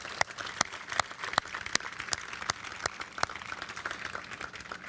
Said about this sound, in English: Yeah, just round of applause.